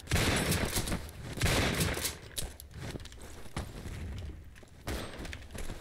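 Video game gunfire, dense overlapping shots and bursts crackling almost continuously at close range, with brief gaps and a renewed volley toward the end; no voices heard.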